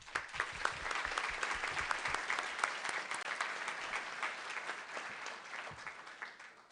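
An audience at the Minnesota FFA state convention claps for a sponsor, a dense, lively round of applause that fills the room and tapers slightly toward the end.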